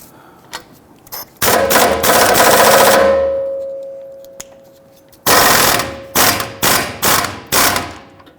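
An 18 mm socket on a ratchet loosens the rear shock bolt on a 2010-2019 Ford Taurus: loud bursts of rapid ratcheting clicks, a long rattling run followed after a pause by several shorter, punchy rattles.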